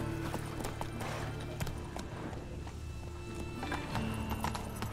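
A horse galloping in The Witcher 3, rapid rhythmic hoofbeats with a brief whinny, set against a steady low drone of game sound.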